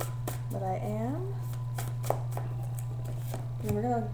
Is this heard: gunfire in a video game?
no